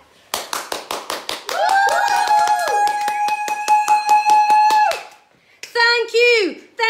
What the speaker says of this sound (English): Let's give a final big clap.